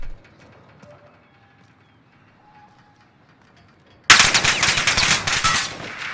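Automatic weapon fire in the video game Warzone: after a few quiet seconds, a loud, close burst of rapid gunshots erupts and continues in a dense rattle to the end.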